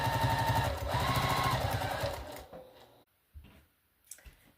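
A sewing machine stitches a string potholder in a quick, close, humming run that stops after about two seconds, followed by a few faint clicks and handling knocks.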